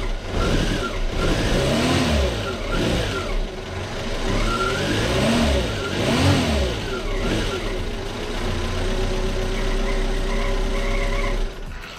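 A car engine runs and revs after a spark plug replacement, a steady close mechanical drone with repeated rising and falling revs and no talk over it.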